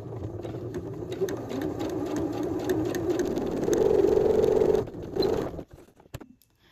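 A sewing machine runs steadily along the long edge of a fabric face mask, its motor whirring with a rising buzz before stopping, then a short final burst and a few soft clicks.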